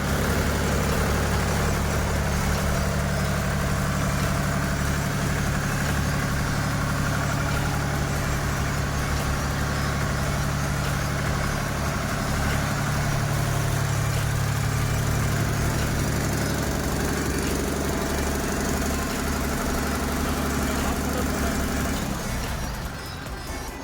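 A Kirloskar 20 kVA three-phase diesel generator runs after a self-start, a loud, steady low engine drone with constant rumble close by, dropping slightly at the very end.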